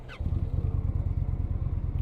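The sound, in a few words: Indian Challenger motorcycle engine rumble with stock exhaust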